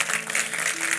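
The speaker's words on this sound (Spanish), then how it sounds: "Aplica, loco, un gran aplauso, amigo" An audience applauds, with a short burst of dense, steady clapping close by and no talking.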